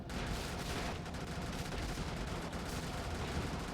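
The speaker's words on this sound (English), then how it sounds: "Let's fire off an EMP grenade." Weapon fire from an EMP grenade launcher in the top-down mech game Brigador, heard as a dense, continuous crackle of gunfire-like bursts at moderate level with no talking.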